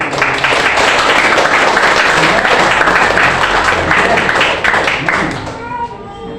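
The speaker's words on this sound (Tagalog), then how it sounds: "Gusto ko mapakinggan ng malakas na palakpak kung talaga kayo." Loud, sustained applause from a church congregation during a Sunday Christmas sermon, a dense wash of clapping filling the room with crowd voices mixed in, easing off near the end.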